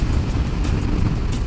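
A car approaching on the road, a broad steady rumble mixed with wind buffeting the microphone, loud and close throughout the short stretch with no speech.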